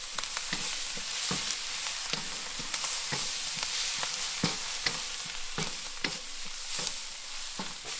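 Rice stir-fried with oyster sauce on a Big Green Egg grill, a loud continuous sizzle broken by regular scraping, tossing strokes of a spatula, close and without talk.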